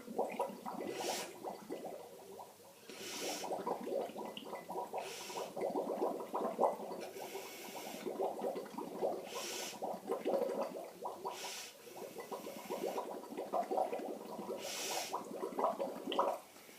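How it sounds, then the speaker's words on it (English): Air blown through a straw into a glass of water makes soft, steady bubbling and gurgling that continues without a break, quiet and close. "And it's just to keep the bubbles going."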